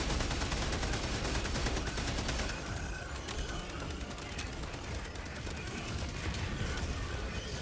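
Sustained gunfire in Helldivers 2 aimed at a large enemy, dense rapid automatic bursts loud at first, then continuing slightly softer as a steady rattling stream.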